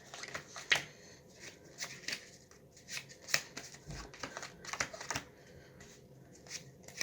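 Playing cards are handled and dealt onto aces during a close-up card trick: soft slaps, flicks and riffling snaps in irregular bursts, quiet and near, with no speech.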